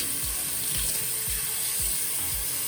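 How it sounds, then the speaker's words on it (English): Warm water pours steadily from a tap into a bathroom sink that is being filled to rinse and soak crochet hair, a close, continuous rushing flow with no voices. "So I'm about to get that water back on warm."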